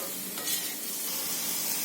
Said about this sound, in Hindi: अभी इसी मसाले के साथ मैं झींगा तोरी को भी डाल दूंगी और अच्छी तरह से मसाले के साथ मिक्स कर लूँगी।